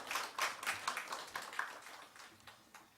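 A church congregation claps to welcome a visitor during a Sunday service, a brief patter of scattered hands that is fairly faint and fades out over a few seconds.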